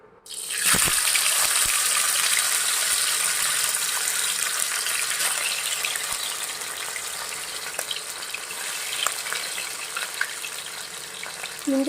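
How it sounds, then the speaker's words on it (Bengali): Fish dropped into hot oil, likely with garlic and pepper nearby, sputters in a loud, steady hiss that starts sharply after a brief quiet moment and keeps crackling close up for the whole stretch. "তো তেলটা গরম হয়ে গেছে, এবার এক এক করে মাছগুলো তেলে ছেড়ে দেবো।"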